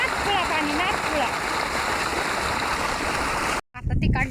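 Water rushes hard through a newly laid farm pipeline, a loud steady gushing roar close by with a voice talking over it, cutting off briefly near the end.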